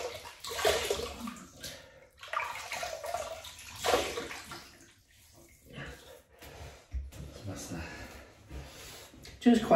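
Water splashing from a running tap as a face is wetted before shaving, intermittent close sloshes and splashes while someone talks over them.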